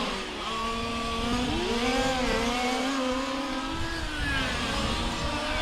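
Large-scale RC race cars on a track at a world championship final, small engines buzzing and whining continuously as they sweep past, pitch rising and falling with the revs, fairly loud, no voices.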